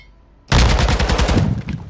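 Sustained automatic gunfire in a Call of Duty-style shooter game bursts in suddenly and stays loud and dense, a rapid rattle of shots that fills the remainder without any talking.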